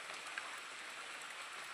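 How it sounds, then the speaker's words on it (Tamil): Heavy rain falls on a flooding house, a steady, dense hiss of drops with no break and no voices. "நம்ம வீடு மழை பெஞ்சிக்கிட்டு இருக்கு"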